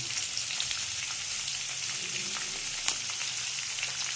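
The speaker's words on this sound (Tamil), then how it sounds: "இந்த டைமில் பெருங்காய தூள் கொஞ்சம் சேர்க்குறேன்" Asafoetida powder and curry leaves sizzle in hot oil in a pan while tomato rasam is being made, giving a continuous, even crackling hiss at close range with a few small pops.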